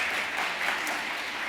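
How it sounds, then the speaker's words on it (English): An audience at an evening speaking event applauds, a brief, steady wash of many hands clapping at moderate distance. "Please give them a round of applause."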